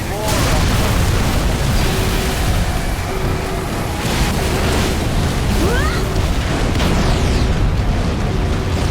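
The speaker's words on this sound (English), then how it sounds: "I saw that explosion from orbit." A loud, sustained explosion roars through a Halo game scene, filling the space with rumbling blast noise and scattered bursts.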